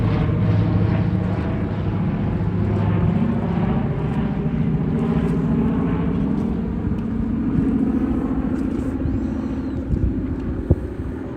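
A Ford Trimotor airplane comes in to land at an airshow, its engines a loud, steady droning rumble that holds throughout with a slight swell, heard from nearby without talk.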